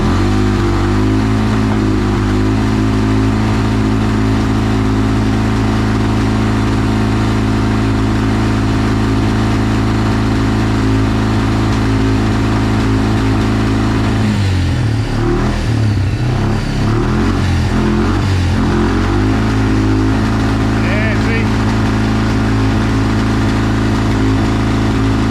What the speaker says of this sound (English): I'll heat the engine up while I'm cleaning out the air box.